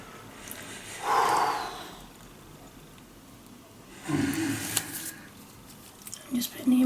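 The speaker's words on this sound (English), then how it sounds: "Deep breath in." A deep breath in taken just before an implant goes into the hand, two breathy rushes of air a few seconds apart over a quiet room background, close and fairly soft.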